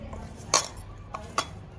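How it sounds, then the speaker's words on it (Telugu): Spoon clinks and scrapes against a pot or bowl while avakaya mango pickle is mixed with crushed garlic, two or three short metallic knocks with quiet gaps between, close and fairly soft. "ఇదిగోండి మొత్తం ఇలా కలిపేసుకోండి"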